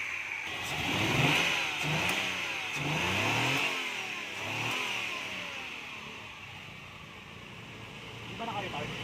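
A Mazda Lantis Type-R V6 engine revs up and down several times close by, the rising and falling pitch sweeps repeating over a steady hum with a high whine, and a bit of talk at the end.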